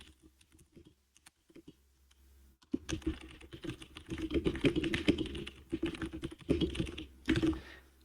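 Close clicking of a computer keyboard as Python code is typed, sparse taps at first, then dense, rapid bursts of keystrokes.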